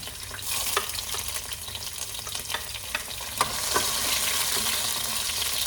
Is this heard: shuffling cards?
no